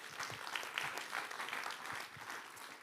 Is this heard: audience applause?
yes